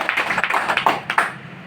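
A short burst of applause from an audience at a meeting, a brief patter of claps that fades out after about a second, with no talking.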